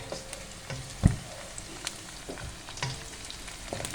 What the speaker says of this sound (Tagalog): nag-scramble ako ng eggs natin at nilagyan ko na rin ng salt and black pepper for spicy